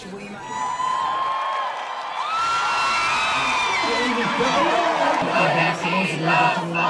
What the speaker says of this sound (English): In Tel Aviv, a huge crowd had gathered to support families of hostages who erupted in joy and tears as the releases began.